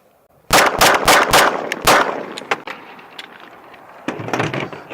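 A Turkish-made Canik Prime 9mm pistol fires hollow point rounds: a rapid string of loud, close shots in quick succession, then a lull with fainter clatter before a final burst of shots.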